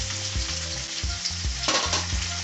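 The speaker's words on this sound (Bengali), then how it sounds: "আলুগুলো দিয়ে ভালো করে নাড়াচাড়া করে একটু ভেজে নিয়ে" Potatoes are stirred and fried in a pan, giving a continuous sizzle broken by repeated rhythmic scrapes and knocks of the spoon against the pan. The sound is close and moderately loud, with no talking.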